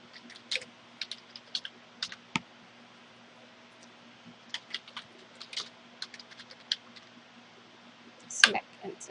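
Keys tapped on a computer keyboard while entering a domain password: scattered quiet clicks in short bursts with pauses, then a louder cluster of keystrokes near the end.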